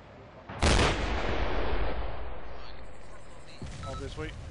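An AT4 anti-tank weapon fires with a single sharp, loud blast followed by a long rolling echo across open terrain, and a voice speaks briefly near the end.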